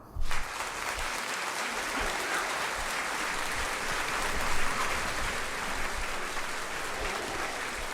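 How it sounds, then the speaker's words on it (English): A dense, steady round of applause from a live audience, loud and sustained for several seconds with a brief louder burst at the start and a swell midway, no voices over it. "Let's give Trump Vader his round of applause"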